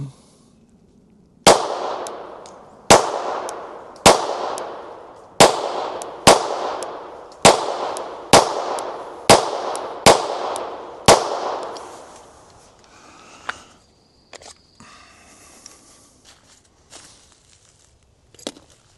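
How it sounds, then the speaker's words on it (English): Ten home-reloaded practice rounds fire in a steady series of sharp, loud gunshots about a second apart, each with a short decaying ring, then a few softer clicks and handling sounds. "I'm going to shoot 10 rounds"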